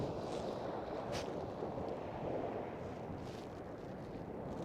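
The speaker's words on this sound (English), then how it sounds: "The wind blowing the snow and sand." Wind blowing snow and sand across a winter beach at Coney Island, New York, heard as a steady, even roar of gusting air buffeting the microphone, with no voices.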